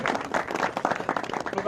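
Audience applause for honoured guests at a Pakistani music ceremony marking a master–disciple initiation, dense continuous clapping from a nearby crowd throughout.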